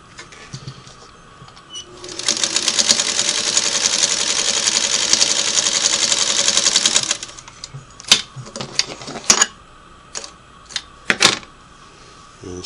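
A Singer Model 301A sewing machine runs a steady, rapid, even stitching burst for about five seconds at a medium stitch length. Separate clicks and knocks follow as the machine is handled.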